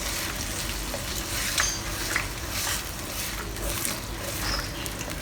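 Sweet and sour sauce with capsicum and lemon juice, thickened with cornstarch solution, bubbling and sizzling steadily in a pan, with scattered light clinks from a utensil stirring it, close and without voices.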